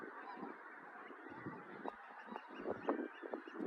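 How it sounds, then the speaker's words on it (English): A large flock of geese honking along a river bank, many overlapping calls forming a dense, continuous clamour with louder individual honks rising out near and far, no talking. "Still can't get over how many geese are over there."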